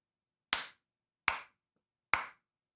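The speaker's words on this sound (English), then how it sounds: "I can just do that clap" Three single hand claps right into a microphone in a quiet room, each sharp, close and evenly spaced, with silence between them.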